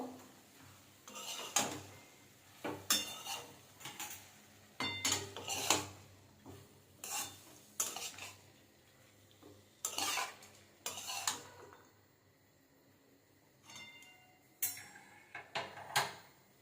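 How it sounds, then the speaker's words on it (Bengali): Meat tossed with onion, carrot and cabbage in a pan makes repeated close scraping and clinking strokes of a spoon against metal in an irregular rhythm, with a faint sizzle between strokes and no voices. "প্রথমে দিয়ে দেবো পেঁয়াজ দিয়ে দেবো গাজর দিয়ে দেবো বাঁধাকপি সব কিছু মাংসের সাথে ভালোভাবে মিশিয়ে নেবো"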